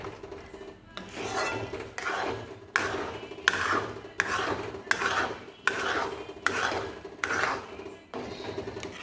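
A utensil scrapes and rubs repeatedly against a metal pan or plate in regular strokes, about one every second, as a sweet is transferred to a plate vessel, close and fairly loud, with no talking.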